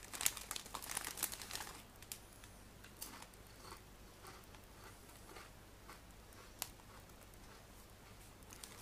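A Doritos chip packet is handled, giving close, bright crinkling during the first two seconds, then fainter occasional rustles over quiet.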